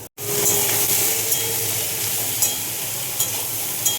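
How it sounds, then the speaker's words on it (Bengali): Nigella seeds sputter in hot oil in a pan while a fish chorchori is being cooked, making a steady, close, bright sizzling hiss that runs unbroken for several seconds. "এই তেলের ভেতরে আমি কালো জিরে ফোড়ন দিলাম"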